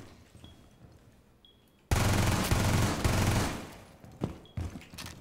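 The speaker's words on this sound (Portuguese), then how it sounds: "As pessoas estão atirando, mano." Sustained heavy automatic gunfire in Rainbow Six Siege, a loud close fusillade that erupts suddenly after quieter moments and rattles on for several seconds before breaking into scattered shots.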